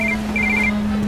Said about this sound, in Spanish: Cuando sonó el teléfono, se detuvo para contestar.